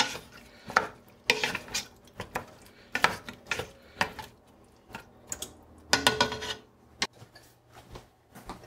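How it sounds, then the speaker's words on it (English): A spoon stirs a pot of bean stew with a bay leaf in it, giving a run of close, irregular scraping and clinking strokes against the pot over a quiet background. "A stir."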